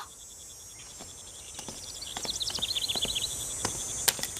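Crickets chirp in a quiet outdoor setting from an ancient Chinese period drama, with a rapid series of faint, evenly pulsed chirps building in the middle, plus a few soft knocks.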